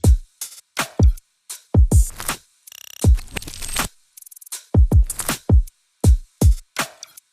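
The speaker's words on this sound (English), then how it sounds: "let's just hear these drums by themselves" A drum pattern from a beat-making project plays on its own: punchy kicks and snappy snares in a syncopated groove, with quick glitchy stutter fills and sharp transients separated by crisp gaps.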